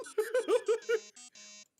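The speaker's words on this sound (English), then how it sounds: "it sounds like the Nokia, like the Arabic Nokia ringtone" A Nokia-style phone ringtone from the game Limbus Company Canto 8 plays as a quick run of bright, bouncy tonal beeps and then a few sustained tones, clear and close, with no voice over it.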